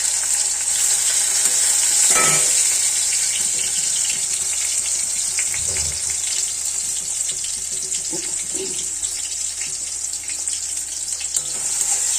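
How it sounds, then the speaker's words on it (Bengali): Tomato frying in a wok while being stirred, a continuous hiss of hot oil with occasional spatula scrapes and soft clunks, close by with no talk. "টমেটোটা একটু নাড়াচাড়ার পর"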